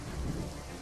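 A thunderstorm pours heavy rain in a dense, continuous hiss, with a low rolling rumble of thunder underneath, all steady and fairly quiet throughout.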